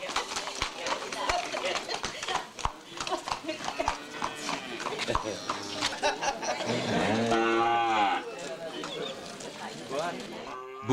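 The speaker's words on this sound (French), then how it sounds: "Beaucoup de jeunes veaux sont à vendre" Young calves and cattle at a livestock market moo several times, with a long drawn-out call near the end, among clip-clopping hooves and a busy crowd, while someone talks over the scene.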